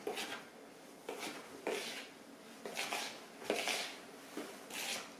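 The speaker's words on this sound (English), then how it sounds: "Stir that salt in a little bit." Salt being stirred into plain flour in a bowl: soft rhythmic scraping and swishing strokes, about six of them, close and moderately quiet, with no talking.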